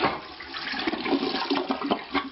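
Water-saving toilet flushing after its supply line is shut off: a close, rushing swirl of water with gurgles, strong from the start and easing slightly toward the end, no talking.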